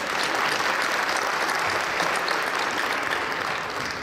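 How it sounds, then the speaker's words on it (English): An audience at a community gathering gives a sustained round of applause, dense and even clapping from many hands at close range, filling about four seconds without a break. "You should give a round of applause for your presence here yourself."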